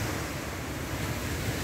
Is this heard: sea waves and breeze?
yes